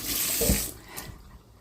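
Curry leaves rinsed under a running kitchen tap give a close rushing splash that peaks briefly, then trails off into faint drips and trickling, with no one talking.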